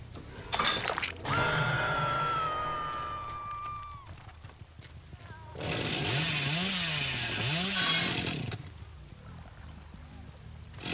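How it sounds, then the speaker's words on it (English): In the horror video game Dead by Daylight, a chainsaw roars and revs in two loud sustained bursts with rising and falling pitch, separated by quieter stretches of game ambience. "The chainsaw ain't for me."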